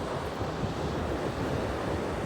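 Pacific Ocean surf on a rocky beach, a steady loud wash of waves with wind noise and no voices.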